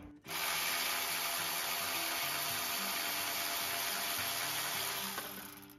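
A power tool loosens the alternator adjuster bolt on a Daihatsu Esse, whirring at a steady, loud, high-pitched whine for about five seconds before winding down, close up and without talk.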